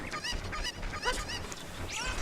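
Several video game chickens call in quick, nasal honking bursts, close by and repeated over a couple of seconds, in The Legend of Zelda: Ocarina of Time.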